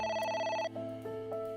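A telephone rings in the video game AI: The Somnium Files, a steady electronic trill sounding twice over a low background hum, with no talking.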